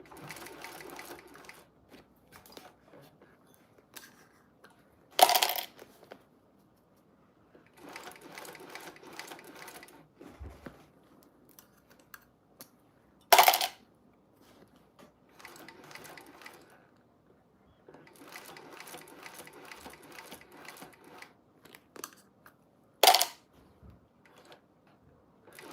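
A sewing machine stitches in three steady bursts of a few seconds each, with a sharp loud clunk marking each pause between runs, close and clear against a quiet room.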